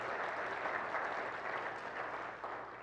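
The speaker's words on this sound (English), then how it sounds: "So let's give them a round of applause this morning." A church congregation applauds during a Sunday morning worship service, with steady, dense clapping from many hands that fills the whole stretch at close range.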